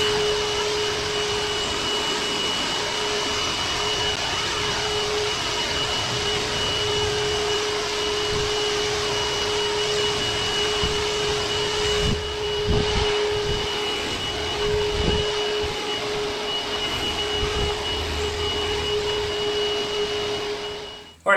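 A Milwaukee M18 cordless wet dry vacuum runs in blower mode on a job site, giving a loud, steady, close whooshing roar with a high whine that holds unbroken for about twenty seconds before cutting off.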